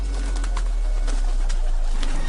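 A bird coos in a Hindi animated story, soft repeated calls set against a steady, loud background hum and hiss, with no speech.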